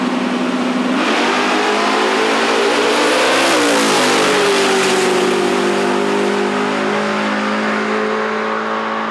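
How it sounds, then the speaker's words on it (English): At a night drag race between a blue Chevrolet Nova and a turbo SN95 Mustang, a loud, close engine revs up in pitch, then holds a steady, roaring drone that slowly fades. "Here we have Michael Goodman in his beautiful blue Nova against SN95 Mustang."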